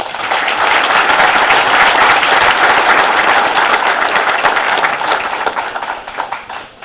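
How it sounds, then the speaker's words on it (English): Dense audience applause at a baseball and softball awards banquet, loud and sustained for several seconds before thinning out at the end. "we want to make sure we give her a big round of applause"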